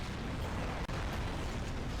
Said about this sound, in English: causing lots of explosions and mayhem on the road